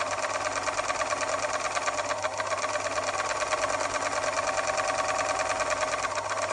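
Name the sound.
Bernina 730 Record sewing machine running at minimum speed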